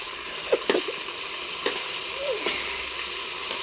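Onions frying in a pan while a rice dish is cooked, a low steady sizzle broken by a few sharp utensil taps and scrapes, no talking.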